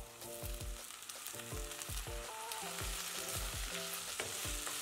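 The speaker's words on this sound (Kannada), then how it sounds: "ಈರುಳ್ಳಿ ಸ್ವಲ್ಪ ಫ್ರೈ ಮಾಡ್ಕೊಳ್ಳೋಣ." Onions and curry leaves frying in a pan, a steady soft sizzle with repeated stirring scrapes and clacks throughout, quiet and close with no talking.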